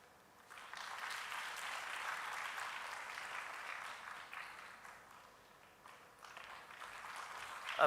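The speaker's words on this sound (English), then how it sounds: "A big round of applause for this wonderful moment." A seated audience at a patent and intellectual property workshop gives a sustained round of applause during a felicitation, heard faint and somewhat distant, rising, easing off, then picking up again at the close.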